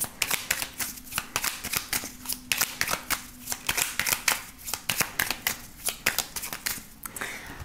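Oracle cards shuffled by hand during a tarot-style reading, giving a steady run of quick, soft riffling flicks close to the ear, rhythmic and continuous with no voice over them.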